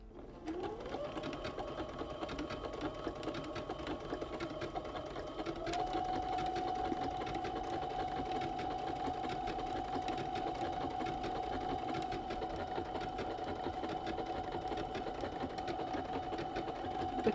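A sewing machine stitches a patch onto a trouser leg, giving a steady, continuous mechanical whir at close range. The pitch steps up slightly partway through, and no one speaks.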